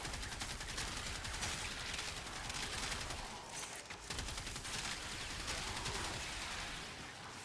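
Rapid sustained automatic gunfire from a Reconifex weapon in the Warframe video game, a dense continuous rattle of shots with a brief dip midway, loud and steady throughout with no voices.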